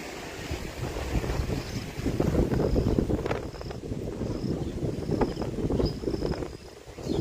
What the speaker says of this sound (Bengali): হাওয়ার বেগ কিন্তু আরও দেখতেই পাচ্ছেন প্রচুর পরিমাণে হাওয়া দিচ্ছে আবারও